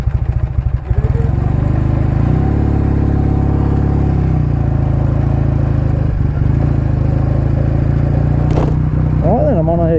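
A 1953 BSA motorcycle engine runs loud and close throughout, a steady deep throb that shifts as the rider pulls away through the gears and holds second.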